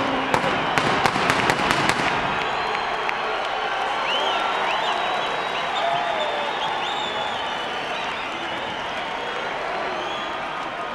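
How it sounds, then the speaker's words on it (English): A boxing arena crowd roars and cheers as Fernando Vargas enters the ring before his fight with Oscar De La Hoya. Sharp bangs and claps come first, then a sustained loud wash of crowd noise with whistles. "An explosive eruption in the arena as Vargas emerges into the ring. His deeply loyal and boisterous crowd of followers expressing their approval."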